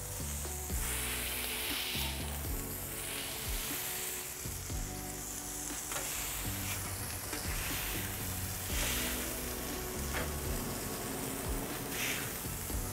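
Burger patties and onions sizzle and fry steadily on a MaxKare tabletop griddle outdoors, a loud continuous crackle with scraping and pressing sounds from a spatula throughout, no talking.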